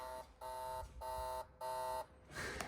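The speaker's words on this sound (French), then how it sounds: "On dirait un réveil" Four evenly spaced electronic buzzes pulse loudly in a row, like an alarm clock, inside a BMW M3 drift car, followed by a rougher burst of noise.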